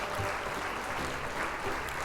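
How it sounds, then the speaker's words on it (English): Audience at a public library show claps for a performer's dog named Frank, a brief, steady patter of many hands held at a moderate, somewhat distant level. "A big round of applause for my dog,"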